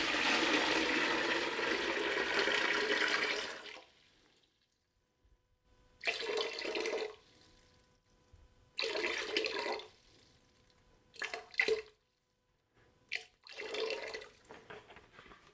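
Water pours into a bucket on a scale, measured out for mixing with dry reclaimed clay slip: a steady loud gush for about four seconds, then several short separate pours with pauses between.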